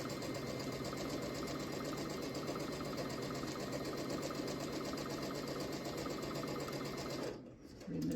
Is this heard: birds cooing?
no